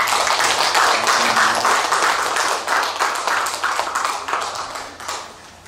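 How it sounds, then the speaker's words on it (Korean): An audience at a church gathering of retired pastors claps steadily, a dense near applause that holds strong for several seconds, then thins and fades out. "우리 박수를 한번."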